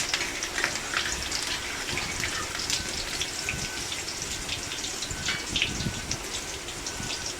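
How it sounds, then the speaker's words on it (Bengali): Water poured into hot mustard oil tempered with nigella seeds and green chillies in a pan gives a steady, dense crackling sizzle with popping spatters that carries evenly throughout. "ফোড়নটা হয়ে গেলে দিয়ে দেবো সামান্য পরিমাণে জল"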